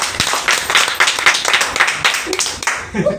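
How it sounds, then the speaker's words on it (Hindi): A crowd at an RCM campaign gathering claps with raised hands, producing loud, rhythmic clapping with a rough regular beat that keeps going for several seconds and thins out at the end. "दोनों हाथ ऊपर करके ताली बार बजाओ"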